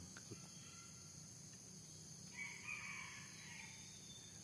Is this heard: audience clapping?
no